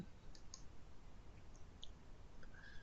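A computer mouse clicks faintly a few times while the Apply option is selected in MicroStrategy reporting software, with quiet room hiss underneath.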